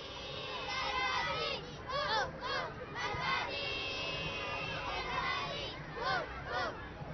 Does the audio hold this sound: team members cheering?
yes